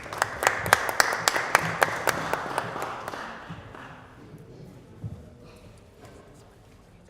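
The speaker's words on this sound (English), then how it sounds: "So in a big round of applause, Dr." Audience at a Christmas dinner applauding, sharp close claps in a quick burst that fades out after about three seconds, followed by quiet room murmur.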